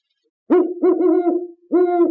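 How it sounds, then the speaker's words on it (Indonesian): An owl gives a few close, clear hoots in two bursts, the second after a short pause, with silence before them. "Ada juga bunyi burung hantu."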